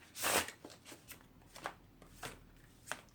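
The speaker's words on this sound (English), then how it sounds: "let me go ahead and just give these a few shuffles" Tarot cards shuffled by hand, a louder opening riffle followed by a series of soft, evenly spaced slaps and rustles, close and quiet.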